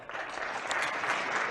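Audience applause at a 10-ball pool tournament semifinal in a casino, a steady dense clapping that fills the clip evenly and carries no voices.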